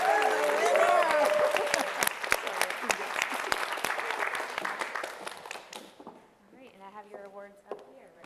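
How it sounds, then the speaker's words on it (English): Audience applause at a closing ceremony for an energy and climate week in Houston, a dense wash of clapping from a large crowd that holds steady, then thins out as a voice begins speaking. "a round of applause really for every group"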